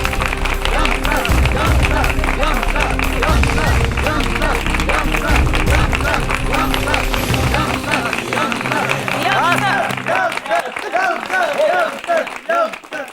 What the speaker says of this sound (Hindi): ये देखो हमारे दुश्मन दूसरे दुश्मन के लिए तालियां बजा रहे हैं